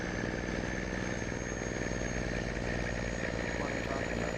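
A farm vehicle's engine drones steadily and loudly up close, a constant mid-pitched idle with a rough, pulsing texture.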